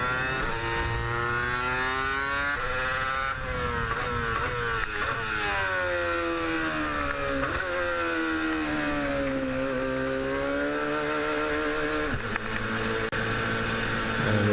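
A race car drives through the chicane at the Jerez circuit, its engine note loud and continuous as it rises and falls through the turns, with pitch shifts on downshifts and upshifts.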